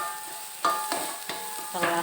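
Onions sizzle in a hot pan for a martabak telor filling, a steady frying hiss broken by a few sharp scrapes and clinks of a spatula stirring, close and fairly loud with no talking.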